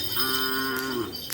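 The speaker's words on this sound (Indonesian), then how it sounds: "Ini ada sapi kecil lagi." A single cow moos at a kerapan sapi bull-racing practice, a drawn-out low call lasting about a second, fairly close with no talk.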